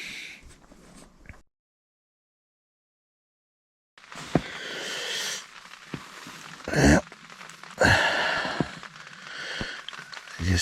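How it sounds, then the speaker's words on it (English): Freezing rain patters and snaps on a tarp over a campsite, with scattered crackling taps after a silent gap and a couple of louder bursts, close and moderately loud. "It almost sounds like it's freezing rain on the tarp."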